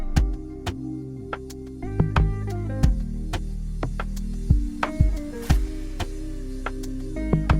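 Afrobeat drum groove programmed in the UJAM KAYA plugin, with sharp, steady percussive hits and a bright crash cymbal burst near the end, playing over sustained synth chords and a deep bass tone, with no talking.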